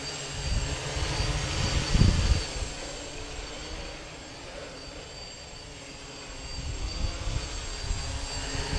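A 3D printed quadcopter flies outdoors, its motors giving a steady moderate buzz and hum that swells and fades as it moves, with no talking.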